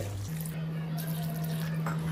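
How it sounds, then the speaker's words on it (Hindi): Two glasses of water poured into a pot of slow-cooked whole-spice meat curry, a steady splashing pour with a low constant hum underneath, close and continuous. "तो यहाँ पर हम 2 गिलास पानी डालेंगे।"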